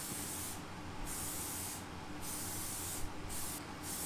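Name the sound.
spray can applying primer to motorcycle frame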